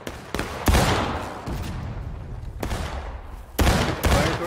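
Cannon and musket fire in the War of Rights video game: several sharp gunshots and booming blasts ring out at irregular intervals, with echoing tails and scattered distant shots between them.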